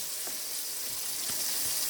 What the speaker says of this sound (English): I was frying up my salmon